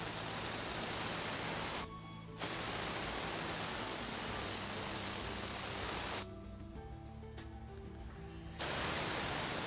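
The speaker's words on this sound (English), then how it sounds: "As you can see, that's a finer spray now." A steady hiss of adhesive from a spray gun runs on and off, cutting out briefly twice before resuming, close and even, a fine spray.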